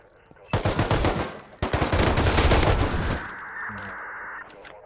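Automatic gunfire from the survival video game Rust, set in a missile silo, comes as two dense, loud bursts of rapid shots. A sustained tone follows as the firing fades.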